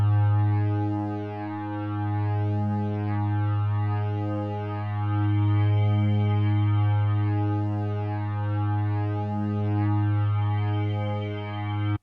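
A sustained Serum synthesizer pad drones steadily, its tone swelling and sweeping slowly in a regular cycle from a sine-wave LFO, with no voices.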